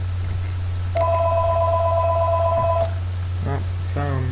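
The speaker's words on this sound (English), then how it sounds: "Oh, phone." Phone ringing in an electronic two-tone pulse for about two seconds over a steady background hum, followed by a few short beeps.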